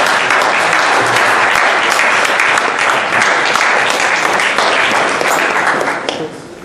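Audience applause fills a convention panel room at San Diego Comic-Con, loud and steady for about six seconds, then tapering off at the end.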